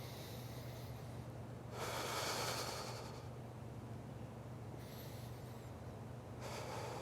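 Heavy exhales through the nose during a leg-lowering ab exercise, three forceful bursts spaced a few seconds apart over a steady low hum, with no talking.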